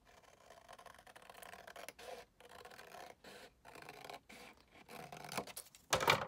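Scissors snip through paper to trim a half-inch piece for a mini album, giving close, dry scraping and crisp cutting strokes in short bursts separated by pauses, with a sharper snip at the end.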